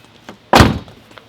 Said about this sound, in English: I'm going to shut the door here